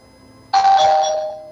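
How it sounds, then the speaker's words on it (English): A doorbell rings once with a clean sustained electronic chime tone that starts abruptly and lingers, loud and close, on a quiet radio show background with no talking. "I heard the doorbell."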